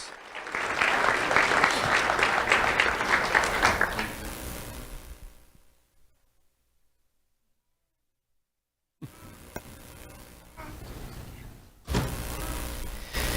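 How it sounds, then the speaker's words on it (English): Loud crowd applause at an awards ceremony for about four seconds, fading out into silence, followed later by faint room noise and rumbling. "Let's have a round of applause for Udl Rodriguez."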